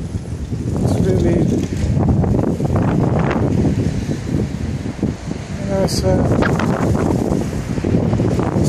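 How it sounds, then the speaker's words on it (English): Wind gusts buffet the microphone in a small pocket park near St George's Road at Elephant and Castle, rumbling in uneven surges while a person speaks briefly and distant city noise carries underneath. "Quite windy today"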